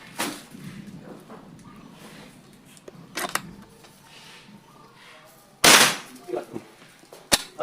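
PCP air rifle with a 12-band scope fired outdoors at a range during an accuracy test, giving a few sharp, loud cracks spaced seconds apart with quieter handling noise between.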